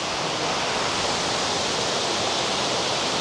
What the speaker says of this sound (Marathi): इकडे पाण्याचा मस्त आवाज येतो खाली